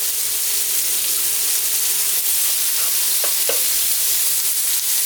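A garlic clove sizzles loudly in a hot pan with oil while cooking for a beef stew, a constant close crackling hiss with a few brief pops and stirring scrapes.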